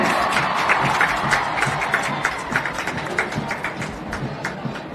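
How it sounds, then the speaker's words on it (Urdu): A stadium crowd applauds the Khyber Pakhtunkhwa contingent as it marches past at a National Games opening ceremony, broad sustained clapping with cheering over a distant crowd roar. "بھرپور تالیوں میں استقبال کیجئے خیبر پختونخوا کا کنٹنجنٹ"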